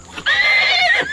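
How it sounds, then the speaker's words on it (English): A real horse gives a loud, close whinny lasting about a second, standing alone with no talk over it. "Yeah, it's a real horse."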